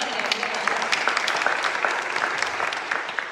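Steady applause from a church congregation during a contemporary service, continuous clapping at an even level throughout, with no talking.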